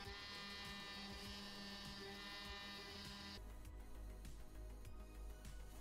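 A Carvera Air CNC mill cuts stock with a 1/8 inch end mill, a steady buzzing whine that shifts pitch partway through as the cut changes, with no talking.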